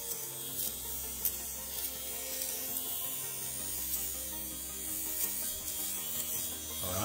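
An electric lint shaver runs over clothing, giving a steady, close, quiet motor buzz with a faint scratchy rasp as the blades pass over fabric, continuous throughout with no talk.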